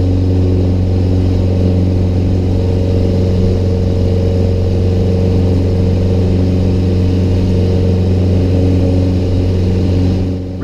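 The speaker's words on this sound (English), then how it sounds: "There's liftoff." Small piston airplane engine at climb power just after takeoff, a loud steady drone with strong low harmonics running continuously and close throughout, no voices.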